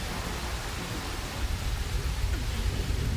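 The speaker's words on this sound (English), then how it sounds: "you're not getting the full sound of the storm. It's freaking loud." A thunderstorm in the survival video game Prologue: Go Wayback!, set in the woods: steady, loud hiss of heavy rain with a deep, rolling rumble underneath, continuous throughout with no pauses.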